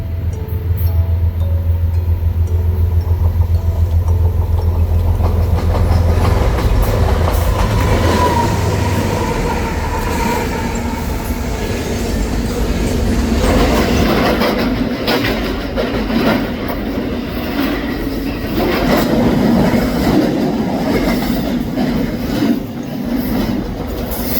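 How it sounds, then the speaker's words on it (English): CSX freight train I-162, led by locomotive 5284, rolls past with a steady, loud rumble of engine and wagons, wheels clacking on the rails throughout. "The next train we would catch would be CSX I-162 being led by 5284."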